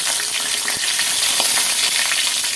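Dried chili, bay leaf, onion and garlic frying in oil for a tomato chutney, a loud close continuous crackling sizzle with scattered pops and no speech.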